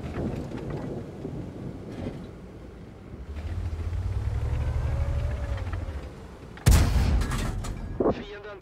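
Rumbling tank-battle game ambience with engine drone, then a sudden loud artillery blast followed by a second sharper shot, close and booming.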